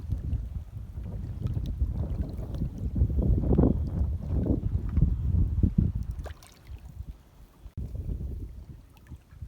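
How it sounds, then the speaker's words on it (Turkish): Strong wind buffets the microphone in heavy, roaring gusts that ease off briefly near the end, with faint water movement beneath. "Çok rüzgar var."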